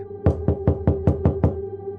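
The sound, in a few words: gentle knock on a door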